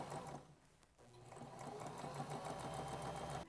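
A sewing machine stitching pieced quilt fabric runs steadily in a fast, even whir, with a brief slowdown near the start before the motor picks up speed again. It is quiet and close, with no talking.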